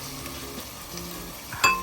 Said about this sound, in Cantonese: 啲五花肉係啦，煎一煎佢，